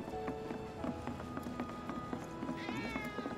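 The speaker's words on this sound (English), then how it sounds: "Ah, that was definitely a cat." A single drawn-out meow from a cat in the video game Final Fantasy VII Remake comes late, over quick in-game footsteps and background ambience.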